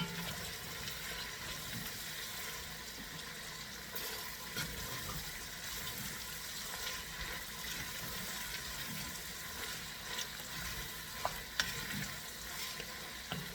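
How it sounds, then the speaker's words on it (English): Chopped onions sauteing in a pan for a beef stew with vegetables and spices, a steady close sizzle and crackle of frying that runs continuously and alone. "we're going to let those saute"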